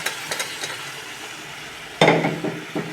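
A steady sizzle of squid frying in a pan, broken by a sharp scrape and clatter as it gets stirred, followed by a few more scrapes.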